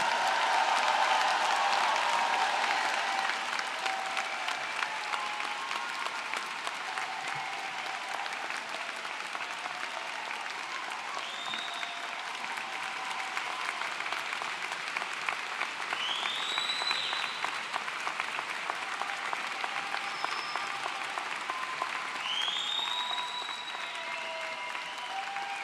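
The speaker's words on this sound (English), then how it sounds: "Make some noise for your graduates." A large graduation convocation audience claps steadily and loudly, applause sustained throughout with occasional whistles rising above it.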